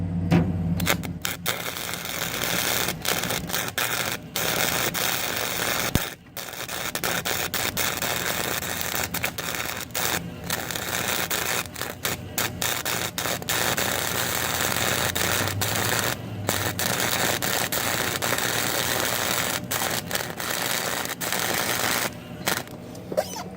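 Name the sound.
welding on a Snapper Pro mower deck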